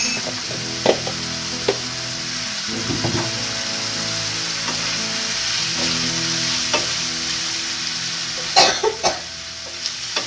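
Dried garlic frying for pakbet, a loud, continuous sizzle in the pan with occasional sharp knocks of stirring and a brief cough nearby.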